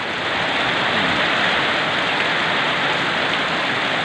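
Heavy rain pours steadily in a rural spot near an elephant shelter, a dense, loud, unbroken hiss with no pauses and no voices.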